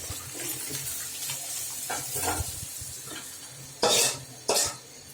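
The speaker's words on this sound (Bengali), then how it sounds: "এভাবে ডিম একটু হালকা বাদামি কালার কালার হওয়া পর্যন্ত ভাজতে থাকবেন" Eggs fry in oil in a pan until light brown, with a steady soft sizzle under stirring scrapes and two sharp clinks of a utensil against the pan near the end.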